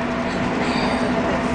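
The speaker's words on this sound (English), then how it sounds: "Simo, we're on the train today" Steady rumble inside a moving passenger train bound for Marrakech, a continuous low roar with a faint tonal hum and no distinct voices.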